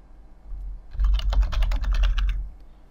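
A password being typed on a computer keyboard: a quick, steady run of close, crisp key clicks lasting about a second and a half over a low background hum.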